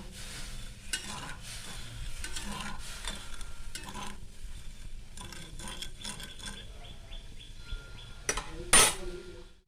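Sugar syrup with four cardamom pods being stirred in a pan, a steady scraping and swishing with faint simmering underneath, plus a sharp clink near the end.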